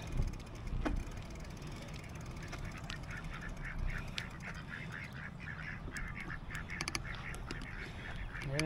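Several ducks quack repeatedly at a moderate distance at Woodlawn Lake Park, a busy chorus of short calls over steady outdoor background noise.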